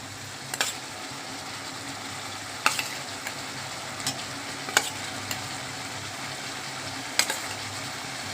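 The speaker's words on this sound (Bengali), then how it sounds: "এবার আমি এটা টমেটোগুলো দিয়ে দিচ্ছি, এই টমেটোটা দিয়ে দিচ্ছি।" Prawn curry with potato and pumpkin sizzles steadily in a pan as tomatoes go in, with a few sharp clinks of a spoon stirring against the pan over the constant frying hiss.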